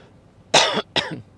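Two sharp, close coughs in quick succession, the first harsher and longer, the second shorter.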